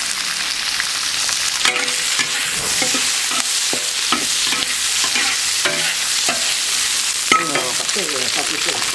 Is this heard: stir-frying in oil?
yes